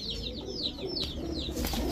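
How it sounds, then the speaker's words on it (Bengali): A domestic pigeon coos in a soft repeated burble, close by, over a low steady background hum. "এখন দেখাবো হোয়াইট টাইগার ড্যানিশ মাদি কবুতর"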